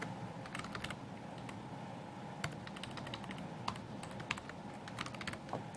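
Rapid, quiet clicks of a computer keyboard being typed on come in uneven bursts over a faint steady room hiss, close to the mic with no talking.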